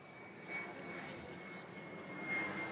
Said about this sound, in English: Oh, my friend is on that plane.